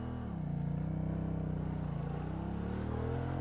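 A QJ Motor SRV 550 ST twin-cylinder motorcycle pulls off in first gear with a steady, smooth, close engine drone that rises slightly as it moves away, loud and continuous with no talking.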